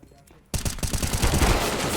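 Rapid, loud bursts of automatic gunfire in a first-person shooter video game start abruptly and continue densely to the end, sounding close and overlapping, with faint talk in the background.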